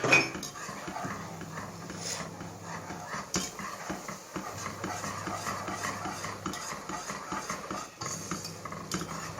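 Mafatqa ingredients toasting in a pan over low heat with fenugreek, stirred steadily with a utensil that clinks and scrapes against the metal in a continuous close-up rhythm, no talking.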